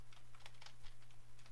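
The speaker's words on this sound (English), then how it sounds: "you can probably hear my keyboard now" Computer keyboard typing during commentary over Atari 2600 Double Dunk gameplay: quick, irregular clicks of keys pressed in a steady stream, close and moderately soft over a low background hum.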